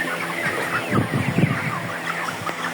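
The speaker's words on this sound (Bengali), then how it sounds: "এখানে 1200 ব্রয়লার ব্যাচ রাতের খাবার দেওয়া হচ্ছে" A shed flock of about 1200 broiler chickens at evening feeding, a dense, fairly loud chorus of overlapping peeps and soft clucks over a constant background hum.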